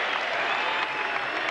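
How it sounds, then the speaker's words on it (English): A packed basketball arena crowd at the O'Connell Center, Florida, roars and applauds at a Tennessee–Florida college game in 1988, a steady, dense wall of cheering and clapping that holds level throughout. "As the crowd goes nuts here at the O'Connell Center."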